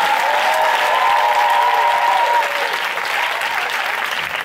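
Dense applause from a church audience acclaiming God, a continuous roar of clapping with cheering and raised voices running through it, loud at first and easing slightly toward the end.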